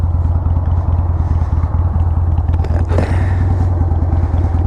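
A Harley-Davidson 883 Hugger motorcycle engine idling close by with a loud, lumpy, steady low rumble and rapid even pulses.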